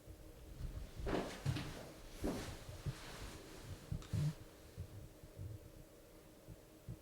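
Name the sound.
knock heard in abandoned RAF base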